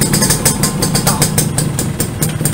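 A restored Yamaha V80 motorcycle engine idles in neutral close by, loud and steady with a fast, slightly uneven pulsing beat.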